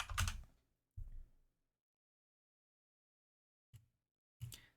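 Someone types on a computer keyboard in a few short bursts of key clicks with silent pauses between them, close and fairly quiet.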